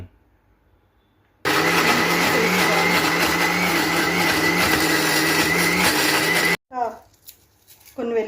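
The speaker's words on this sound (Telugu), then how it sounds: "ఒక మిక్సీ బౌల్ మొత్తం అంతా మెత్తగా గ్రైండ్ చేసుకోవాలి మిక్సీ సౌండ్ వినబడాలి" Mixer grinder whirring loudly as it grinds cooled chutney ingredients for nalleru pachadi, a steady motor roar of about five seconds after a quiet start, then cutting off abruptly, followed by brief speech.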